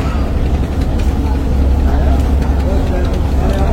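The new passenger launch M Khan-7 pulls away from the Barishal ghat, its loud, steady engine drone rumbling continuously beneath the surrounding activity.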